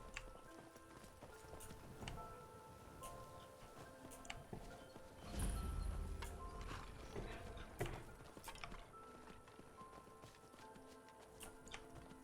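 Steady hoof clip-clops from a horse in a video game ticking along at a walking pace, with a brief heavier thump midway and faint mechanical clicks around it.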